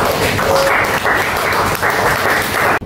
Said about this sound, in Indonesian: Maka sekali lagi kita berikan tepuk tangan atas karya kita bersama ini.